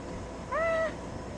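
A cat gives a single short, clear meow up close, standing alone against a quiet indoor background.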